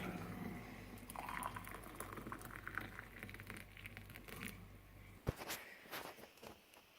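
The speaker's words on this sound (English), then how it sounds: "that water is a-boiling" Steady bubbling roil of water at a boil for tea, close and continuous, ending with a sharp clink and a few light knocks.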